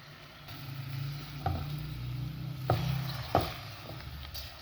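Carrots go into a pan of sugar syrup bubbling for carrot murabba, a low steady simmer broken by three soft knocks as the pieces drop in, with no talk.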